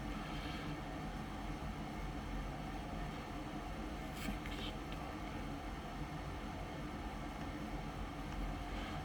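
An engine runs on a dyno at about 6,000 RPM, giving a steady, unbroken mechanical drone at an even level throughout.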